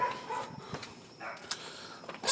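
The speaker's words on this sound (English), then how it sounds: "Apparently that's a provoked bark as well" Neighbourhood dogs roaming loose and barking at someone standing on a residential property, several sharp barks and yips at varying distances over low background noise.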